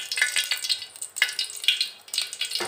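Eggplant frying in hot oil in a pan for a Tamil ennai kathirikkai curry, giving a steady close crackling sizzle with bursts of spitting and popping throughout.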